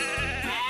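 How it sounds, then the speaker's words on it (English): A sheep bleats once in a train video game, a short, wavering cartoon-like cry that is clear and up close. "Sheep have wandered onto the tracks."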